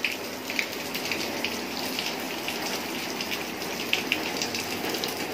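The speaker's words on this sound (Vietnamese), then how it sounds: "Trời mưa" Heavy rain pours steadily onto a flooded orchid garden in the Đắk Lei and Đắk Kôi forest area, a dense continuous hiss with occasional louder drips and splashes, with no voices.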